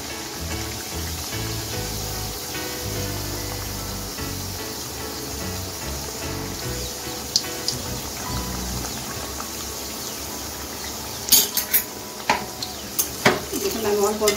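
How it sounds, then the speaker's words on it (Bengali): Papri, crisp flour wafers, frying slowly over low heat in hot white oil in a kadai, giving a soft continuous bubbling sizzle, with a few sharp clinks and scrapes of the utensil near the end. "দেখুন আমি অল্প অল্প করে ভেজে নিচ্ছি। আমি গ্যাসটা লোতে রেখেই আস্তে আস্তে মুচমুচে করে ভেজে নিব পাপড়িগুলো।"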